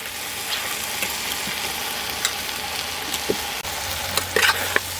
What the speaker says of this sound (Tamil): சுத்தம் பண்ணி வச்சுருக்க பீப் கறியை சேர்த்துக்கலாம்